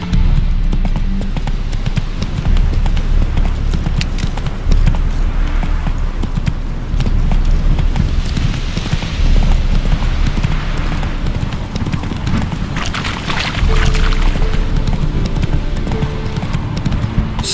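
Horse Roach gallops in The Witcher 3: Hearts of Stone, a steady rhythmic clatter of hoofbeats running continuously and close, with jangling tack and a low ambient hum beneath.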